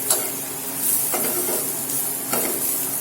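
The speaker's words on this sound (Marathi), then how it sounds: "इथे आपले कांदे आता बघा व्यवस्थित परतले आहे" Onions sizzle and fry in a pan while a utensil stirs and scrapes them in a few brisk strokes, the hiss steady and close throughout.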